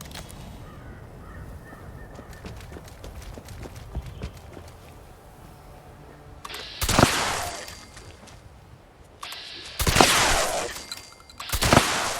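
Combat shotgun blasts from Fallout 76, three loud sharp reports spaced a few seconds apart near the end, following a quieter stretch of low clicking and game ambience.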